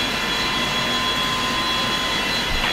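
A Boeing 727's number two engine spools up in a flight simulator, giving a steady, loud jet roar with a high whine that stays constant throughout, with no talk over it.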